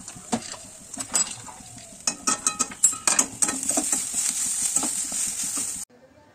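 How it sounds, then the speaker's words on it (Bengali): Potato is mixed with spices, salt, turmeric and chilli powder, giving close scraping and clacking stirring sounds against a pan or bowl in an irregular rhythm. "তো আলু দিয়ে আমি ভালো করে এটা মিক্সড করে নেব।"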